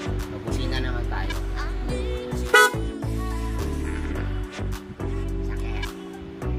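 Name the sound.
vehicle horn honking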